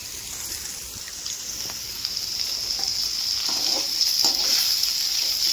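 Potatoes frying in hot oil in a home kitchen, a steady soft sizzle and hiss that grows slightly louder, with no talking over it.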